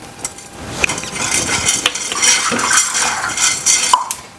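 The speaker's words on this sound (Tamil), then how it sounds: "அதுக்கு அடுத்து வந்து நம்ம மிளகு சீரகம் ரெண்டத்தையும் போட்டுடலாம்" Whole black peppercorns and cumin seeds dry-roasting in a pan while being stirred, with steady scraping and clinks of a utensil against the metal and a faint crackle, close and alone with no talking.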